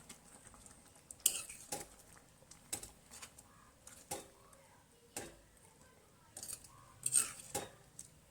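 Spoon scraping and clinking against a pan while masala paste is stirred into tiger prawns, a series of sharp metallic taps and scrapes at an irregular pace, close and fairly quiet, with no talk.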